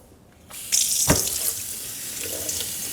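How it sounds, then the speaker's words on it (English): Cold tap water runs steadily into a sink over salted cod being rinsed, a soft hiss that starts abruptly after a quiet moment and continues close and even, with no talk. "under the cold water, just rinse it off"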